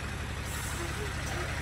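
A Venkateswara bus rumbling past at a village market, a steady low engine drone under ongoing nearby talk.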